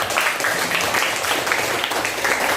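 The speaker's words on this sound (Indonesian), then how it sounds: "tepuk tangan untuk kita semua" A classroom of students applauds together, a dense, continuous patter of many hands clapping close by, filling the short stretch at an even level.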